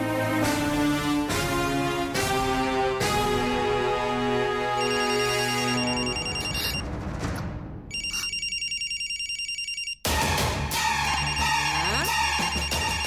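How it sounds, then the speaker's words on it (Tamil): A mobile phone ringtone plays loudly and continuously through a Tamil television drama scene for an incoming call, a repeating melodic ring that shifts in pattern midway with brief gaps. "அந்த நம்பர்ல இருந்து ஃபோன் வருது."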